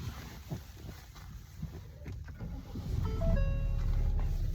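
A Ford Escape 1.5L EcoBoost engine cranks and starts near the end, rising into a steady low idle hum after rustling and handling noise, with no speech.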